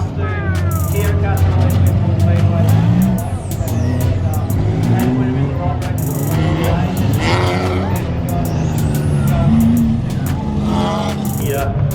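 Wingless sprint cars roar around a speedway in Lismore, Australia, engines screaming and rising in pitch as they pass close by, with a loud continuous din and people talking over it.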